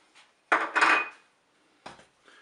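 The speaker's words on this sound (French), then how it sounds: "Je mélange bien sûr." A spoon stirs two tablespoons of mustard into pork roast sauce inside a Cookeo multicooker pot, giving a loud scraping burst followed by a second shorter scrape, close up with no voices.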